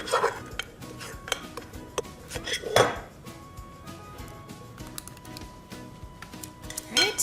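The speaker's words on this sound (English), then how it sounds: "I'll have to scrape the bowl for that last one." Spoons scrape and clink against a bowl as sticky dough is worked loose, a run of irregular metallic taps and scratches, close and fairly loud, with no voices.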